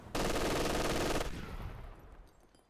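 MG42 machine gun firing in Company of Heroes 2: one loud, rapid burst of about a second, then a fading rumbling tail with no voices.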